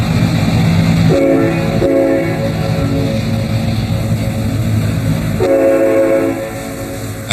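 The California Zephyr pulls away into the evening with a loud, steady rumble of engines and rolling cars, while its horn sounds twice in long blasts, close by.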